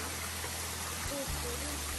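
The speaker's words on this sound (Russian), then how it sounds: "Водопад, конечно, сильно" A waterfall in Crimea in December gives off a continuous broad rush of falling water, steady and moderately loud, over a low hum, with a faint voice briefly under it.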